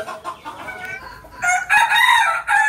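Desi chickens on a poultry farm cluck in short, nearby bursts, then a rooster crows loudly and at length close by, with more clucking around it.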